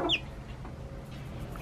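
A chicken gives a quick cluck up close at the start, then only soft background noise remains as the bird falls quiet.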